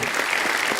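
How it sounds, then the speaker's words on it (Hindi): Steady, dense applause from a television studio audience on a comedy talk show, loud and continuous with no gaps. "जोरदार तालियां कैटरीना के लिए"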